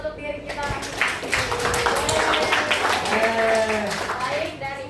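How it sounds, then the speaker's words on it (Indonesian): A classroom of children claps for themselves, a steady mass of hand claps running nearly the whole time, mixed with kids' voices and chatter. "Maka dari itu beri tepuk tangan untuk diri kita masing-masing."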